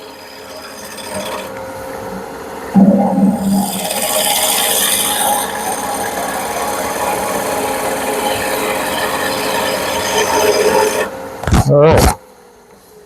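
A roughing gouge cuts wood spinning on a lathe, giving a steady, loud rasping scrape that runs continuously before a few short knocks near the end; someone speaks briefly at the start.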